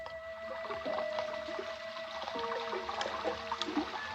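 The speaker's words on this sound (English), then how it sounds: "That's the way it sounded when it rained" Rainwater rushing and trickling past a window just below gutter level, a radio drama sound effect, steady and close with a continuous watery wash and scattered splashes, alone without voices.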